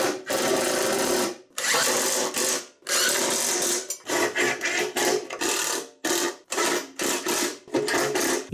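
Power tool driving bolts into a snowblower auger gear assembly, a series of loud whirring bursts of varying length separated by brief pauses, close up.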